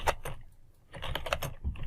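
Keystrokes on a computer keyboard while a document name is entered, a short burst of close, crisp key taps, a pause, then a faster run of clicks.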